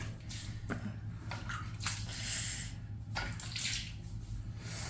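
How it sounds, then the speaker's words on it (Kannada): Hot water splashes and pours in short bursts over feet, close by, with a steady low hum underneath and no talking. "ಈಗ ಇವಾಗ ಬಿಸಿನೀರು ಇವಳೇ ತೊಳ್ಕೊಳಕ್ಕಾಗಲ್ಲ ನಾನು ತೊಳ್ಕೊಡ್ತಾ ಇದ್ದೀನಿ"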